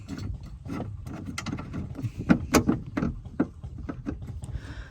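A threaded mechanism on a 2012 Mazda BT-50 Pro cab pickup being unscrewed, giving a run of close ratcheting clicks and metallic scrapes in irregular bursts, with no talk.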